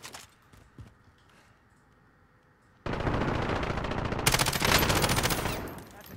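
Gunfire in the video game Warzone: after a quiet stretch with a few faint clicks, sustained loud automatic weapon fire bursts in and grows denser, rapid rattling shots continuing to the end.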